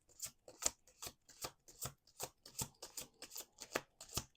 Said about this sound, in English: Last shuffle, last shuffle,